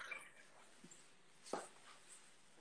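A small dog whimpering and squeaking indoors, faint short whines with soft breathing in between, quiet and close.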